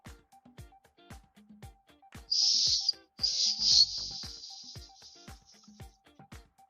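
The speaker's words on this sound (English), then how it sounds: "but it's a survival whistle." A survival whistle, built into a spark-striking gadget, gives two loud, shrill blasts, one short and one longer and wavering, over a quiet background of regular faint clicks.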